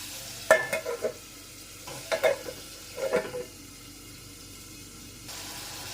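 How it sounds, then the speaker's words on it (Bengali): Prawns in a pan of hot oil, heard as a soft background sizzle broken by three bursts of spatula stirring and scraping close by. "আস্তে আস্তে এটা ভাজা হতে থাকবে"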